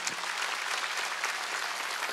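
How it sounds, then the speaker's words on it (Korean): A church congregation claps together during a Wednesday worship service, with a dense, steady burst of applause filling the room close and evenly throughout. "믿으면 박수 쳐요"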